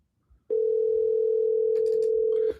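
A phone call waiting to be picked up: after a soft click, a single loud, steady telephone tone holds for about two seconds, then cuts off.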